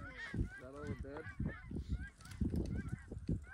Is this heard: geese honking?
yes